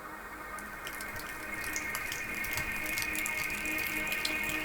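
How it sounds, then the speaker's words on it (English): Water overflowing from a drain pipe, captured in binaural stereo, a steady trickling and splashing flow with bright drips on top, gradually growing slightly louder, no voices. "One of these is actually a binaural recording of some water overflowing from a drain pipe."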